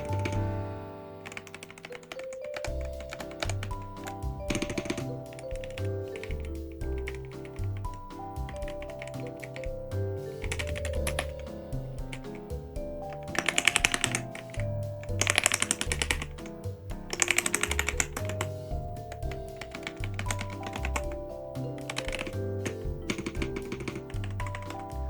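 Typing on an Ajazz AK820 Pro mechanical keyboard: continuous light key taps with occasional louder clacks, partly masked by steady background music.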